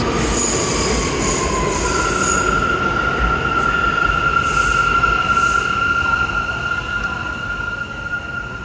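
An R179 subway train rolls past loudly and steadily at Penn Station on the 8th Avenue line, its wheels squealing in high, sustained tones over a deep rumbling roar.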